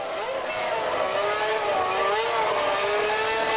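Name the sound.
Ferrari Formula One car coming into the pits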